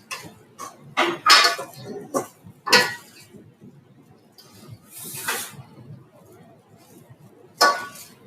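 A large bowl of grain salad tossed with utensils, giving bursts of scraping, rustling and clinking in irregular clusters with quiet gaps between, close and moderately loud.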